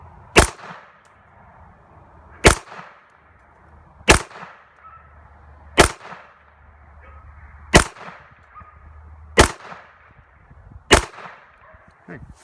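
Seven 9mm pistol shots with Winchester Train & Defend 147 grain ammunition ring out one at a time, evenly spaced roughly every one and a half to two seconds, each a sharp loud crack with a short echoing tail outdoors.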